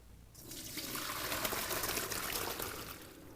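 Water from cooked ziti pasta pours steadily through a drain, a continuous soft rushing splash that swells in after a brief quiet start and carries on alone at moderate level.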